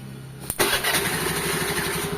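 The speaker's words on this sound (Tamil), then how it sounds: "ஓகே வண்டி ஸ்டார்ட் ஆகிடுச்சா அப்போ போது செல்ஃப் மோட்ரு நல்லாயிருக்கு" Motorcycle self-starter motor cranks briefly before the engine catches and settles into a loud, close, steady idle with a rhythmic mid-pitched chug, checked after a faulty starter relay.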